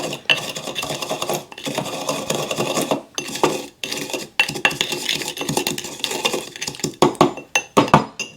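Bourbon cocktail with bitters being mixed, busy close clinking and scraping of a spoon against glass and ice in quick irregular bursts with short pauses.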